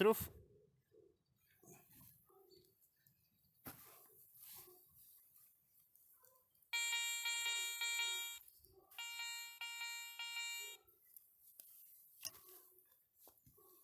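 Two long, bright electronic tones from a Garrett 400i metal detector, a repeatable double-gong signal over a coin buried in soil, each sustained about two seconds with a short gap between, amid faint rustling and clicks.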